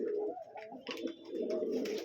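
Pigeons in a home pigeon loft coo softly and continuously nearby, their low, throaty calls overlapping with faint higher chirps, and no one speaking.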